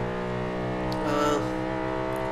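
A 500-horsepower all-wheel-drive car in Forza Horizon 3 holds a steady engine drone with a slight rise in revs partway through, fairly loud and continuous throughout.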